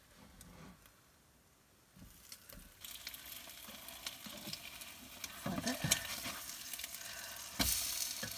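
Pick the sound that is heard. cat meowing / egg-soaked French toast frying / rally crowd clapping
egg-soaked French toast frying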